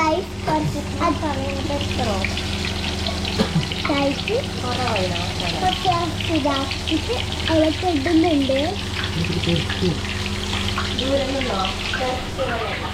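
Cauliflower pieces frying in hot oil, a steady sizzling hiss running under someone talking throughout, with the crackle continuing between her words.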